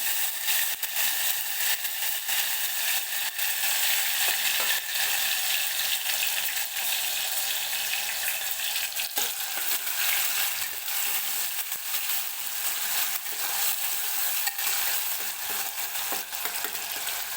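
Crushed garlic, curry leaves and finely chopped tomato frying in a pan for Maharashtrian katachi amti, a loud, steady sizzle with repeated spatula clicks and scrapes across the whole stretch.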